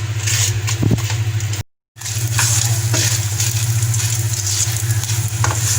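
Whole spices for shami kabab crackling and sizzling in a hot pan, a dense hiss over a steady low hum, interrupted by one brief silent gap.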